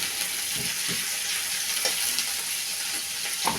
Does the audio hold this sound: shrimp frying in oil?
yes